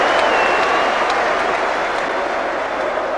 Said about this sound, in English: Applause from the manager for the team that have achieved another victory